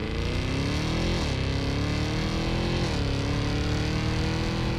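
A 2023 Cadillac Escalade-V body-on-frame SUV accelerating through its 10-speed transmission, the engine note climbing steadily then dropping sharply at two quick upshifts, loud and close with a continuous throaty drone.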